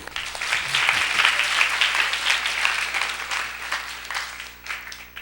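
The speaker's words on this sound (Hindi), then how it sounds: "ताली बजाओ।" A crowd at a Hindi religious satsang gathering claps steadily and loudly for several seconds, a dense, continuous wash of hands with no talking over it.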